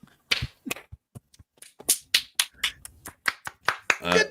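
Scattered, sparse claps from a small audience at a comedy show, individual sharp hand claps spaced irregularly and growing a little denser near the end.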